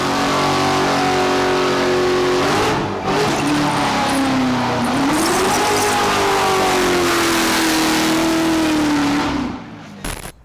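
A 2016 Chevrolet Corvette C7 engine revs loudly and steadily, its pitch rising and dipping as it holds, then cuts off abruptly near the end, with faint voices faintly in the background.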